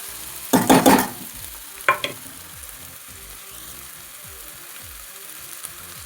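Green chillies and onion frying in hot oil for an onion, chilli and egg curry, with a loud burst of sizzling and stirring early on, a second brief flare, then a steady low crackle.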